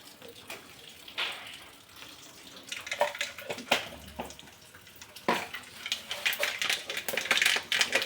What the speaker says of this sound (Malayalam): ആ കടുക് വറുത്തു